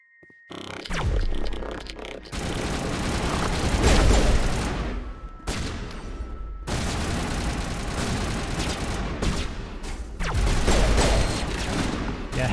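Dense, sustained gunfire in Mass Effect from weapons loaded with tungsten rounds, with loud overlapping shots and blasts in long bursts that briefly pause and then resume.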